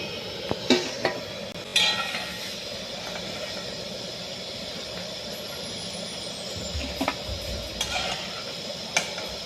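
Jackfruit chips fry in hot oil with a soft continuous sizzle, while a few sharp clinks of a utensil stirring against the pan stand out at irregular moments.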